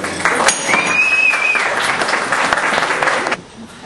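Guests at a fortieth birthday party applaud the sisters acting as hosts, a loud, dense burst of clapping close by that holds steady for several seconds, then cuts off abruptly, with a voice faintly audible over it.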